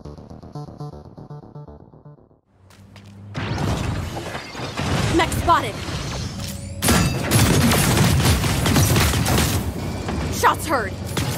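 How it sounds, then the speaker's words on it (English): Gunfire and crashing impacts in the mech combat game Super Mecha Champions, with rapid bursts and heavy thuds that grow loud after a quiet start, mixed with game music and effects. "Shots heard!"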